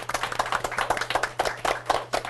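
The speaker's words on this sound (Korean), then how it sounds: "오늘 수고하신 MC분들께 박수 부탁드리겠습니다." Audience at a Korean book forum clapping for the event's MCs, a brisk, steady burst of hand claps, fairly close and lively, with a low hum beneath.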